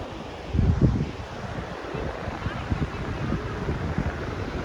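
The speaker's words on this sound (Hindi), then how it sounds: "तो हवा भी तेजी से आ रहा है" Strong gusting wind on a flooded road between Bhellapara and Hojai buffets the microphone with a heavy, rumbling roar, continuous throughout with a louder surge near the start.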